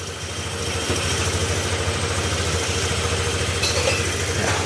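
A motorcycle engine idles with its air cleaner removed, a steady close, throbbing rumble with an even low pulse and a faint mechanical rattle throughout.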